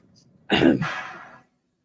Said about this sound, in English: my cough is driving me insane